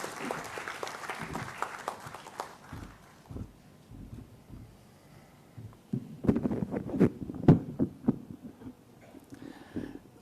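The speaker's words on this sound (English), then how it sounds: "please give a big round of applause" Applause from a lecture audience swells and fades early on, then a burst of clapping returns later, fairly close and mixed with some crowd noise.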